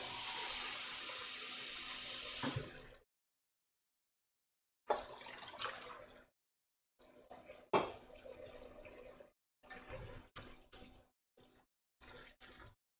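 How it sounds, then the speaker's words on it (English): Kitchen tap water gushes into a pot for risotto for a few seconds, then stops; after a quiet gap come intermittent splashes, stirring and pouring sounds in short bursts, close by and with no talking. "I think I need to add more water still."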